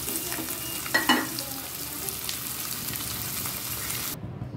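Fish fries lightly in oil, a soft, even sizzle at moderate distance with a couple of faint metallic clinks early on, fading abruptly to quiet at the end.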